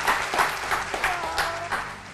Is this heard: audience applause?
yes